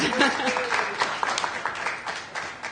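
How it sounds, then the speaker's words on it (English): Steady applause from a crowd at a town candidates night, a dense patter of clapping that carries on throughout with a voice briefly over it. "Let's give him a great round of applause."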